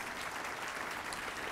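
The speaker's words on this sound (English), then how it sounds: "So give them a round of applause, would you please?" A university audience at a State of the University address applauds steadily, a dense, even burst of clapping filling the whole moment.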